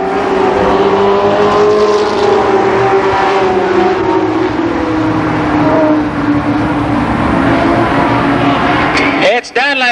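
Stock cars racing at Columbus Motor Speedway, a loud continuous roar of engines droning around the oval with a shifting pitch as cars pass, while an announcer calls the race over it.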